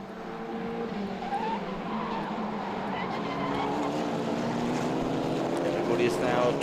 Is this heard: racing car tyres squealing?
yes